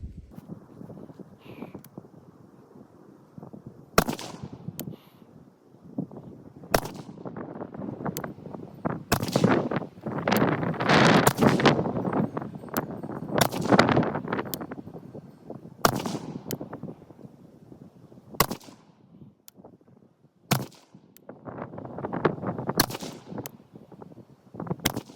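A rifle fires a ten-shot string outdoors during a scope zero-retention test, sharp loud reports spaced irregularly a second or two apart, with wind noise rumbling between shots and no talking.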